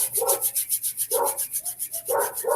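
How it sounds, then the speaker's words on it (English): Hands rubbing together palm against palm near the end of a relaxation exercise, a quick rhythmic series of soft swishing strokes, close and fairly quiet in a still room. "rubbing the hands together"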